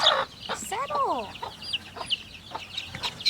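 A baby chicken held in someone's hand while being imprinted gives a run of quick, high, rising-and-falling cheeps, close and fairly clear over a faint background hiss.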